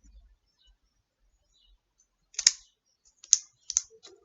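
An Oliva torpedo cigar is cut with a cutter, giving three or four short, sharp snips and clicks close by after a near-silent pause.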